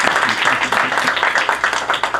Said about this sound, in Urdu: بھرپور تالیاں ہمارے پیسر کے لیے